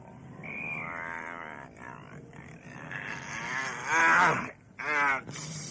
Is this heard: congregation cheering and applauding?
no